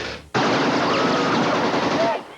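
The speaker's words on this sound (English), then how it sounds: "This is the AK-47 assault rifle, the preferred weapon of your enemy, and it makes a distinctive sound when fired at you." An AK-47 assault rifle fires in a loud, continuous automatic burst that starts abruptly and keeps going at close range, dense and steady, with no voices over the gunfire.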